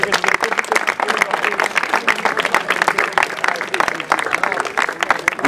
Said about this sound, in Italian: un applauso ragazzi